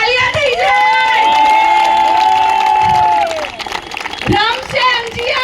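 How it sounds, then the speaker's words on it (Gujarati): A crowd at a women's cricket tournament (MGPL 2.0) cheers loudly, with drawn-out whooping shouts followed by scattered clapping and excited voices nearby. "એ બદલ બધી નારી શક્તિ માટે તાળીઓ થઈ જાય"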